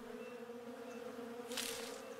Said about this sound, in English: Okay, so I guess I just gotta deal with these bees.